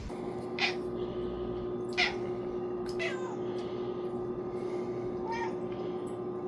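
Cat meows, a few short separate calls spread over several seconds against a steady hum, the first two somewhat louder.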